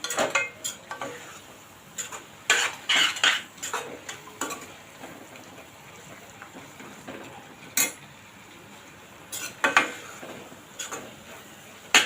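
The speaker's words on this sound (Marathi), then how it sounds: "आता हे दोन मिनटं चांगला आपण मसाला आणि का कांदा टोमॅटो चांगला परतून घेऊया" Spices, onion and tomato being sautéed in a pan for tomato rice give an irregular run of close taps, clatters and scrapes from stirring against the pan, in short bursts with quiet gaps between them.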